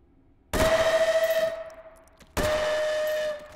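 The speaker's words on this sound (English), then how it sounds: "Oh, the train whistle is always so fun." Steam train whistle in the VR shooter game Hot Dogs, Horseshoes & Hand Grenades, two loud, shrill blasts with a hissing onset, the first longer and warbling, the second steady, with no talk.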